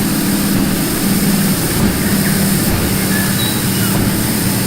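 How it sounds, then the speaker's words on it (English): A plane flies overhead in the train game Rolling Line, its jet engine a steady loud roar with a low droning hum that holds evenly throughout without fading. "There's a plane right there."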